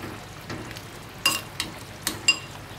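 A spoon stirs kho quẹt sauce with chili in a pan, giving a few soft scraping and clinking strokes with quiet gaps between them, close and faint, with no voices.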